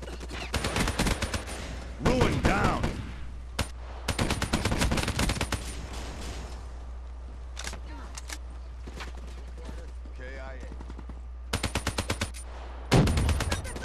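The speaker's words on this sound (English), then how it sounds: "Those shotguns in Black Ops 3." Shotguns and other gunfire in the online team deathmatch game Black Ops 3, with loud bursts of rapid shots in several clusters, some short single blasts and a sharp report near the end, with a voice talking at times between them.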